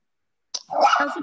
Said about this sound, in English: I just had my dog in the background barking.